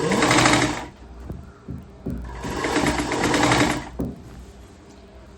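Sewing machine stitching a kurti, with two long loud bursts of rapid mechanical running separated by a short pause and small clicks, ending with a brief restart.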